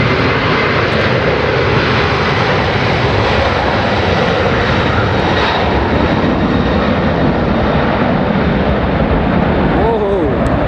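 Virgin Orbit's Boeing 747 'Cosmic Girl' jet engines roar loud and close in a sustained, steady blast of broadband noise that holds for the whole stretch without letting up.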